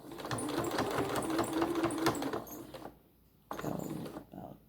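A sewing machine stitches a pumpkin hotpad with a fast, close whirring chatter that runs steadily, then stops abruptly, restarts briefly, and stops again for pivots.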